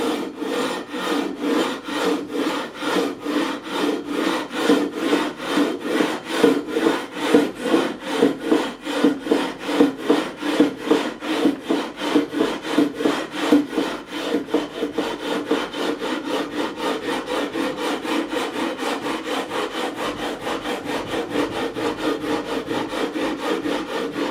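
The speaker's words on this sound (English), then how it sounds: "I'm going to go across with a 240. And we're going to level these frets." 240 grit sandpaper on a straight beam levels the frets of a 1984 Greco Les Paul Custom EG-500, making rhythmic back-and-forth scraping strokes, steady and close, alone with no talk.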